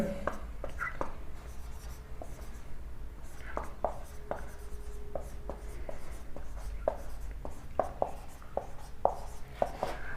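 Chalk or marker writing on a board during a physics lesson, a run of short scratchy taps and strokes spread across the stretch, fairly quiet against a steady low room hum.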